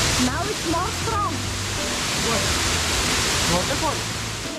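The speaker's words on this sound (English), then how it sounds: "The Glencar Waterfall is 15 meters high and it's the highest waterfall in Ireland." Glencar Waterfall in Sligo, Ireland, 15 meters high, makes a steady broad rushing roar of falling water, fairly loud and constant, while a person talks underneath.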